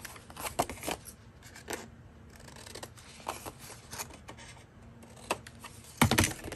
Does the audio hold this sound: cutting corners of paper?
yes